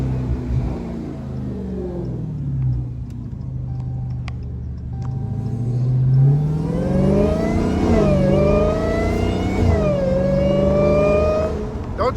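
A Dodge Hellcat engine revs loudly and close by, its deep rumble climbing and falling through several throttle blips over a steady idle, with no talk.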